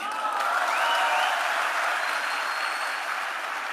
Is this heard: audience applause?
yes